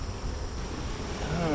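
Honeybees hum inside a crowded wooden hive box being split with queen cells: a dense, steady, close buzzing drone that never lets up, with a voice surfacing briefly at the end.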